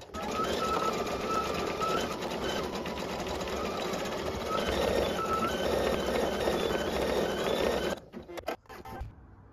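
An embroidery sewing machine stitches an in-the-hoop school bus snap tab in a steady, rapid mechanical whir for about eight seconds, then stops abruptly, leaving a few quiet clicks.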